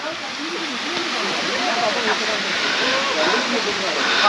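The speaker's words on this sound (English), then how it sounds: "And waterfall on the way again." Steady broadband rush of a waterfall beside a trekking trail between Pokhara and Ghandruk, Nepal, constant and fairly loud, with faint voices and background sounds mixed in.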